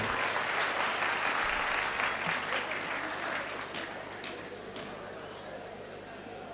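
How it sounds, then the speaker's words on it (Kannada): Steady applause from a crowd at a village temple fair, following a comic speech, loud at first and gradually thinning, with a few sharper claps standing out near the end. "ಒಂದು ಸಲ ಜೋರಾದ ಚಪ್ಪಾಳೆ ಇರಲಿ"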